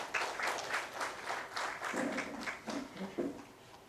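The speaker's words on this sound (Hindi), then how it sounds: "मैं निवेदन करती हूं कि आप सभी उनका भी तालियों से स्वागत करें।" An audience at a lecture series gathering in Indore claps to welcome the city commissioner, a moderate, steady round of applause with a few faint voices underneath toward the end.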